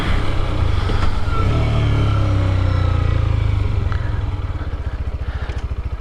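Amazon X-Pro motorcycle (KPM 200 or Hawk 250 DLX) cruising in third gear around 30 mph on a road, a loud steady engine drone with wind rumble that eases slightly and turns into rapid pulsing putter near the end.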